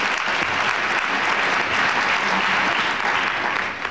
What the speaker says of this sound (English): So let's applaud them all